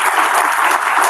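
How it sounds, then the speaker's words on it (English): Audience at a Bitcoin scaling conference applauds its speakers, a dense, steady wash of many hands clapping for about a second, close and loud with no voices on top. "can we just get a round of applause for all of our speakers and everyone who created discussion group?"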